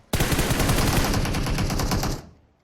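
Rapid automatic gunfire in the video game PUBG Mobile, a continuous loud burst of evenly spaced shots lasting about two seconds that stops abruptly, with no talk over it.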